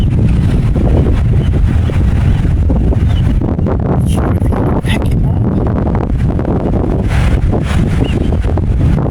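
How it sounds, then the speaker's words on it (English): Strong, steady coastal wind on Scotland's North Coast 500 buffets the microphone with loud low rumbling throughout, while a person speaks briefly over it. "It's quite windy"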